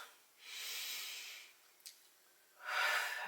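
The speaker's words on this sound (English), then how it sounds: "Another way is deep breathing." Slow, deep breathing in and out, with two long airy breaths separated by a quiet pause and a small click, close and soft.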